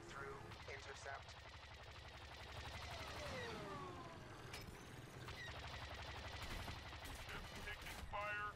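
Rapid blaster fire in Star Wars Battlefront, a steady dense clatter of shots mixed with engine roar and battle noise, fairly continuous throughout, with voices in the background.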